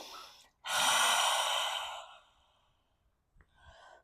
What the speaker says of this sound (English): Stick the tongue out as you exhale.